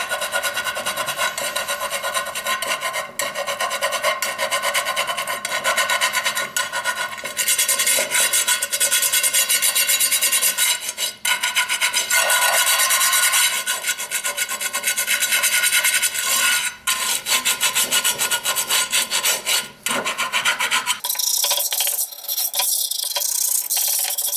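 A metal ring scrubber grinds steadily across a ridged cast iron pan in a long, continuous rasping scrub, close and constant, before it stops abruptly near the end.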